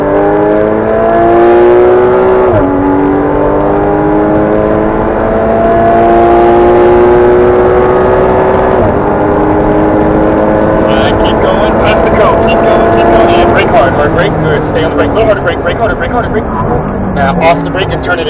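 A Porsche Cayman 718 GTS accelerates hard on a track course, engine note climbing in loud harmonic sweeps through several upshifts, with an instructor talking over it throughout.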